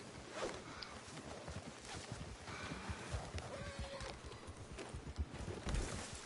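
A horse's hooves clip-clop at a walking pace in the Western game Red Dead Redemption 2, an uneven stream of soft thuds over a quiet outdoor ambience, fairly faint and without speech.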